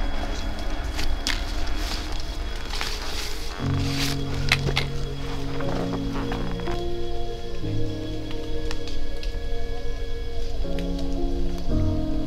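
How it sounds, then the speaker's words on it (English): Steady rain patters continuously on a mountainside during a storm, with faint tonal hums layered beneath the dense wash of drops. "so that's the rain now, look."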